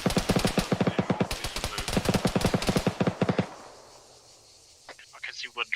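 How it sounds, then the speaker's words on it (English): Rapid automatic gunfire from the military video game Arma rattles out in a dense, loud burst for several seconds, then cuts off; faint radio-style voice chatter follows near the end. "It's looking at us, so we're gonna have to shoot real quick."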